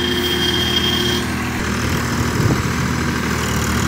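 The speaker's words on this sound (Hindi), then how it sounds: "निका का एक और ट्रैक्टर DI 50 सिकंदर सीरीज का" A Sonalika DI 50 Sikander tractor engine runs steadily at a low, even idle-like drone, loud and continuous with no voices over it.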